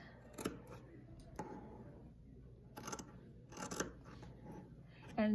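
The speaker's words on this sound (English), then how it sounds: "then I'm going to start cutting I'm going to cut it out." Scissors cut through draped fabric along a pinned line in a few separate snips, close and fairly quiet, with soft handling noise between the cuts and a voice talking lightly underneath.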